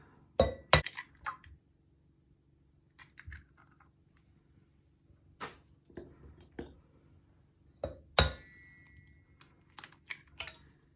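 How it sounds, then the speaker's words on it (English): Eggs crack against a glass bowl in a kitchen, a few sharp clinks and taps spaced out over several seconds with quiet pauses between, close and fairly faint. "Next, I'm going to crack 3 of my eggs."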